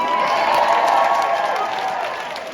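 An audience at the BurySOUND Grand Final cheers for the venue stewards, a brief, loud burst of shouting and cheering voices with some applause, fading slightly toward the end.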